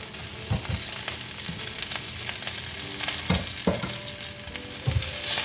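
Broad bean shoots stir-fried with dried chilies crackle steadily in a hot pan, with several thumps and scrapes as tongs toss them, heard close with no talking.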